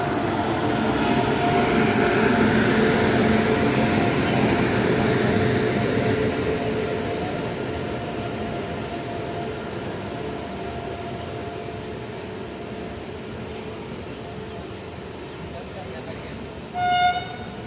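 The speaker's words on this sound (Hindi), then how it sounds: "प्लेटफॉर्म नंबर 1 पर हमारी जो ट्रेन है गोरखपुर पीलीभीत गोरखपुर एक्सप्रेस, उसका अराइवल हो रहा है।" The Gorakhpur Pilibhit Express rumbles in at platform 1 of a station, a loud rolling roar that gradually fades, with a brief horn or squeal near the end and voices speaking over it.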